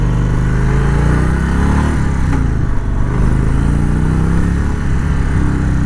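An Indian Springfield Dark Horse motorcycle rolling into a corner, its engine a steady, loud, close drone with a gently shifting pitch and constant wind rush.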